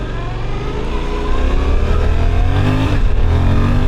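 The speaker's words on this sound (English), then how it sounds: "there's that 776 punchy motor that I love so much" A Suzuki V-Strom 800 with a 776 cc parallel-twin engine accelerates on the road, its engine note loud and close, rising steadily in pitch through the pull, with wind rumble underneath.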